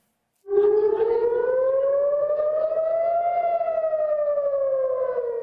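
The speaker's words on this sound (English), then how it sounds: "Air raid sirens blare across Tel Aviv" Air raid sirens wail across Tel Aviv, a single loud sustained tone that kicks in abruptly, rises slowly in pitch, then sags again, droning steadily with no voices over it.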